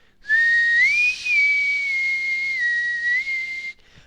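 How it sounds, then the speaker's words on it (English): Inspector Corvin whistles a recurring tune in a film, a single clear sustained whistle that rises and then holds a slightly wavering pitch for about three seconds against faint background hiss. "Inspector Corvin has this nasty habit of whistling, and it's the same tune over and over again."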